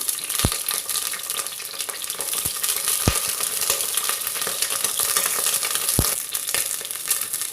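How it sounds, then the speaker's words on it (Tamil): Onions fry in hot wood-pressed sesame oil in a clay pot, a steady close sizzle broken by a few sharp clinks of stirring, with no voices. "இந்த வெங்காயத்தை முதல்ல போட்டு ஃப்ரை பண்ணிக்கலாம்."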